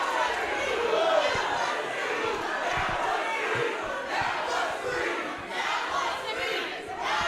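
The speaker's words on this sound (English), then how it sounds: "The crowd has come unglued." A women's wrestling crowd roaring and cheering in an arena, a loud continuous wall of voices with scattered thuds, while commentators talk over it.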